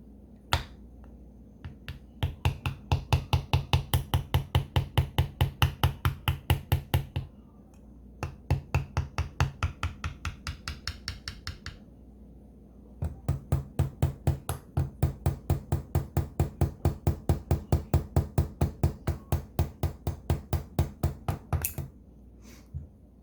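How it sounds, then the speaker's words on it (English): A Holley 650 CFM double pumper carburetor part is tapped lightly with a hammer to free it, rapid runs of sharp close metallic taps in several bursts separated by short pauses. "Don't want to hit it too hard, you can crack it and damage it. Just lightly tap it."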